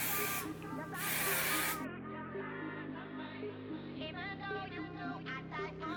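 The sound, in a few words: spraying hairspray over curled hair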